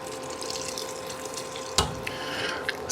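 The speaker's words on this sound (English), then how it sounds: "I'm just going to add some water" Water pours into a pot of pea soup in a kitchen, a steady splashing stream that runs throughout, broken by a sharp knock partway through and a few small clinks, with no talking.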